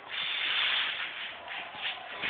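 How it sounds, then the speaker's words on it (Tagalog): A spray can sprays in one steady, fairly loud hiss that lasts the whole couple of seconds, with slight swells in strength and no talk over it. "Spray na ako."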